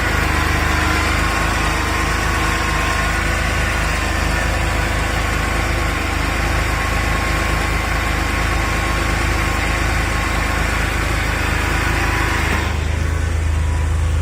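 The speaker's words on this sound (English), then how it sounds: "I'm going to start it up so you can hear it" A freshly installed Porsche 911 SC engine runs continuously at a steady, loud idle with a vibrating rumble, then the tone drops abruptly near the end.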